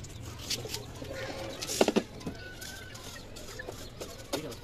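A hen clucks softly in short bursts, close by, with faint background noise and a few light taps; no talking.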